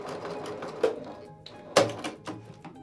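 Sewing machine back stitching a fabric basket seam, heard as short uneven bursts of needle clicks and mechanical thumps close by, with a couple of sharper knocks.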